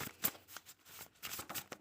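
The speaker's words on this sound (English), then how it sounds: "Actually, I'll shuffle." A deck of cards is shuffled close by at a tarot-style pick-a-pile reading, quiet riffling bursts in several short flurries with brief pauses between them.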